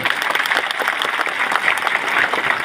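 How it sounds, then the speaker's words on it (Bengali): An audience applauds steadily to welcome a state minister at a public event in Lalpur, Bangladesh, with dense, even clapping from a crowd that fills the space throughout. "এর জন্য আমরা লালপুরবাসীর পক্ষ থেকে করতালি দিয়ে স্বাগত জানাই"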